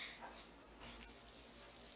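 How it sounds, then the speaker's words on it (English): A soft, steady sizzle and faint crackle from a hot baked vegetable lasagna with béchamel sauce fresh from the oven, quiet and continuous with no voices. "my lasagna is out and looking amazing, and it's still sizzling"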